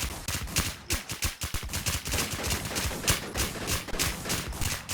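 Rapid video game gunfire rattles in dense bursts of sharp cracks through a Thai online shooter match, close and loud with barely a pause across the whole stretch.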